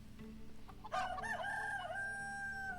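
A chicken in the video game Medieval Dynasty gives a loud, drawn-out crowing call that starts partway through and rings on to the end over a quiet low background hum.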